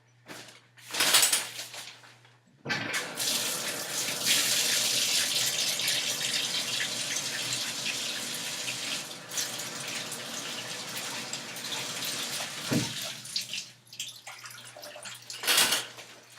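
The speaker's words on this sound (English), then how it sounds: "I'm gonna go wash it in my bathtub real quick" Water gushes steadily from a bathtub tap as a makeup sponge is rinsed under it, with a continuous loud splashing stream broken by short pauses and a few brief knocks.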